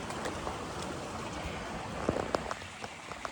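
Bare feet paddling in a shallow stream at High Sweden Bridge in the Lake District, with a steady broadband wash of running water and a few brief nearby splashes toward the end.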